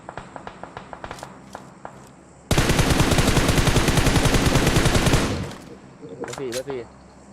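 Automatic gunfire in the game PUBG Mobile, a sustained loud burst lasting about three seconds, with lighter single shots and footstep-like taps before it and a few sharp shots after.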